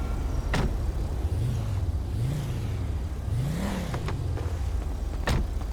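Police car in GTA 5 creeping forward a short distance during an LSPDFR patrol, a low engine hum rising and falling in gentle swells with a few faint clicks, fairly close and steady, with no talk.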